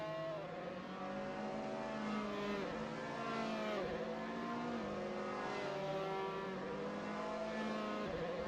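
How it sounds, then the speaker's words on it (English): Race cars in a racing video game on the Suzuka circuit, a steady overlapping drone of several engines revving and shifting pitch as a queue of cars streams past, continuous and fairly loud. "You see a huge queue of cars coming out of that final chicane"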